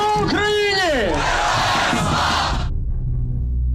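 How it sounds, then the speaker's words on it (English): A large crowd chants and shouts in unison at a rally, loud and close, with one rising and falling cry above it, then a sudden cut to near silence. "effective tools like catchy sing-alongs and chanting are employed"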